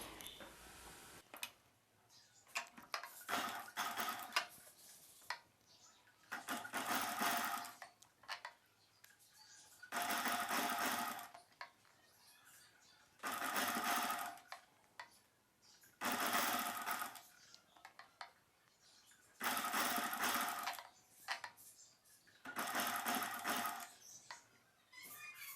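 Bursts from a sewing machine stitch a lining piece along the neck of a silk saree blouse piece, each run lasting a second or two and repeating about eight times, with quiet handling pauses between them.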